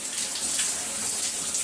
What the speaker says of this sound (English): I just let the water run down and push the tangles out.